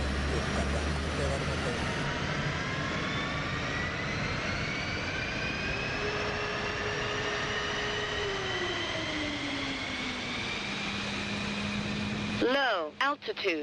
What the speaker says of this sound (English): All right, right engine's coming up.